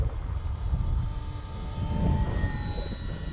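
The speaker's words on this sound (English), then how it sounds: "if the wind makes for terrible audio, well, you know I'm definitely flying in some crazy wind here" A model plane flies in strong gusty wind, its engine a steady whine buried under loud, blustery wind rumble that buffets the microphone throughout.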